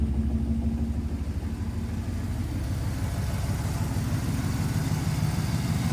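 A 1981 Recaro Daytona 500 Pace Car Turbo Trans Am with a stock 301 turbo engine and a deleted muffler, idling with a steady, deep, even rumble heard up close, with no talk.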